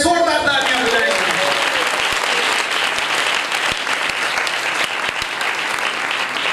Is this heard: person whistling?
no